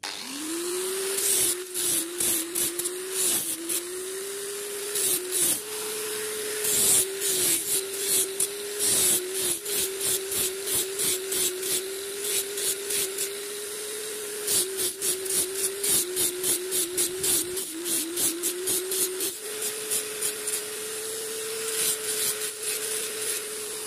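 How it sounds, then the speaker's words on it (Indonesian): A hand angle grinder fitted with a 60-grit sanding disc works on a fishing rod handle, its steady motor drone running throughout while rough, rasping bursts of abrasion come and go repeatedly as the disc meets the grip. "Ini saya memakai amplas mesin gerinda tangan grid 60."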